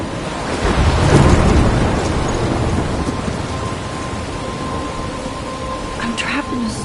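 A rumbling thunderclap swells early and fades under steady rain in a Life is Strange game storm, loud and close, with a faint tone and a few brief sounds toward the end.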